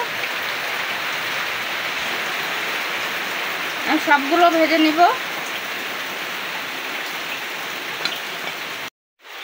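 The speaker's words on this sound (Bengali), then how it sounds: "প্রচুর বৃষ্টি হচ্ছে, হয়তো কথা বোঝা যাবে না" Heavy rain pours steadily as a broad hiss through the whole scene while someone talks over it during a kitchen session of frying pitha, the downpour cutting off abruptly near the end.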